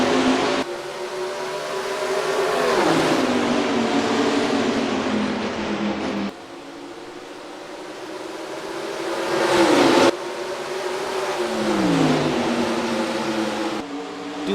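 Race cars in NASCAR Racing 2003 roll toward the green flag at Richmond, a pack of engines droning loud and steady with harmonic whines that rise and fall as the field passes, with no voices over them.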